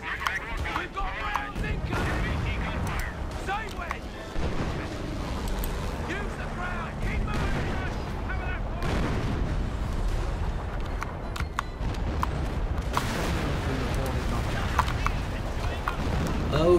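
Artillery and gunfire in the Company of Heroes: Opposing Fronts (2007) real-time strategy game, with loud booms and bursts repeating over about seventeen seconds beneath continuous battle noise and radio-style unit voices.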